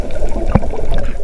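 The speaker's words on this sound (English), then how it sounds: "The boat sinks to the bottom of the river." In a cartoon, Grandpa Pig's boat sinks into a river with a loud gurgling splash against a background of trickling, bubbling water.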